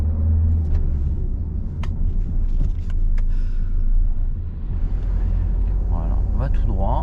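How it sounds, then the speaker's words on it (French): A car on a driving-lesson road speeds up with a steady low engine rumble and road noise throughout, the pitch rising before a shift into second gear, with people talking over it. "On accélère et puis on met la 2"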